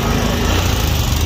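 A Honda Bros 160 motorcycle, a 2021 model, runs with a steady, loud, buzzy engine drone, close by and constant throughout with no pauses.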